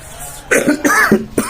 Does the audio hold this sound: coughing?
yes